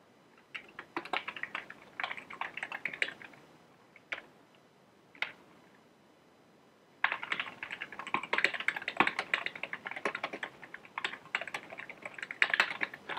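Typing on a computer keyboard in quick close bursts of clicks, pausing for a few seconds with single taps, then resuming in a denser, longer run.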